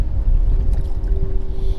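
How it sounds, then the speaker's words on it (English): Strong wind of about 15 mph buffets the microphone on Lake of the Ozarks in a continuous low rumble, with gusty fluctuations and faint water movement underneath. "It's probably a 15 mile an hour wind today."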